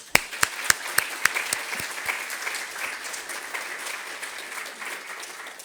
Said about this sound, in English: So a big round of applause to Clare College.